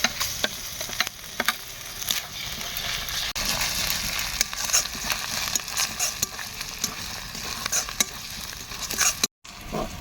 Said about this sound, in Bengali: আদা রসুন বাটা দিয়ে কিছুক্ষণ ভেজে নিয়েছি।